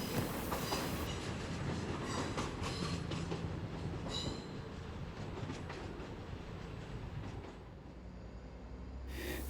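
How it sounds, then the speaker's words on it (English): A CrossCountry train departs a platform at Plymouth station, heading for Leeds, with a steady rumbling roar, intermittent wheel clatter and squeal, heard at moderate distance and easing slightly as it pulls away. "And this cross-country service departing from platform 5 is heading towards Leeds."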